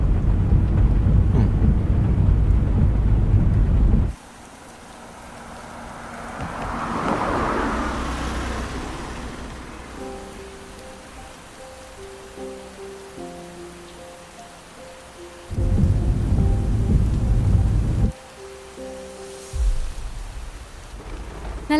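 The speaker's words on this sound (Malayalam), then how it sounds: "നല്ല ബെസ്റ്റ് ടൈം, കൊല മഴ." Heavy rain pours in loud, dense roaring stretches that cut in and out, with a softer rumble between them over quiet music, and no talking.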